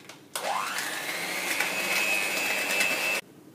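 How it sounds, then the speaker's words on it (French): An electric whisk beats butter with caster sugar and brown sugar, a hard motor whine that spins up abruptly, holds a steady high drone for about three seconds up close, then cuts off. "puis à l'aide d'un fouet électrique,"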